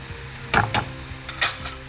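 Onions frying in a pan with a spoonful of sambar masala stirred in: a few sharp spoon-against-pan clinks and scrapes over a faint, steady sizzle, with no voices.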